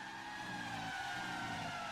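Race cars at Jerez in the rFactor 2 sim, engines droning in a dense, sustained whine with a low rumbling layer beneath, several cars blending together at close range, no speech.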